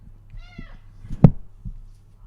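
A house cat gives one short, fairly quiet meow near the start. Scattered knocks and thumps follow, including one sharp close thud, with a low steady hum underneath and no talking.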